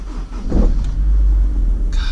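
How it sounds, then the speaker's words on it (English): A car moving through road traffic, a low steady engine and road rumble close by, with a brief swell of passing noise and a short higher whir near the end; no talk. "there's like all this traffic"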